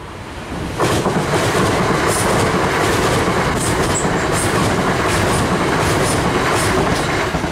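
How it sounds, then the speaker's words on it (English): A non-stop train roars past a level crossing at Shepreth Station at close range, with loud, continuous rumbling and rhythmic wheel clatter, with a few faint high squeals over the top. "the non-stop train approaching"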